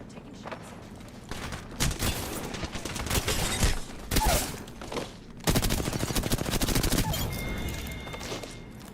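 Rapid bursts of gunfire in a video game shootout, loud and close, with stretches of fast automatic fire and a few sharp single shots, broken by brief pauses.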